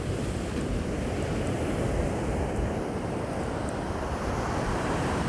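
Surf breaking on a beach at Ouidah, Benin Republic, heard as a steady, dense roar of waves mixed with wind buffeting the microphone, continuous and fairly loud with no voices.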